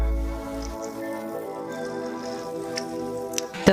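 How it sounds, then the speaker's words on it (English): A garlic mixture is strained through a fine strainer, giving soft wet squishing and dripping sounds over a steady tonal background, with a sharper splash near the end. "We're going to strain the garlic mixture with a fine strainer."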